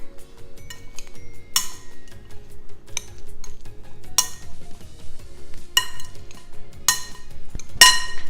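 A spoon clinks and scrapes against a bowl in sharp, irregular knocks while chicken, avocado and egg roll filling is mixed, close and clear over a low background hum.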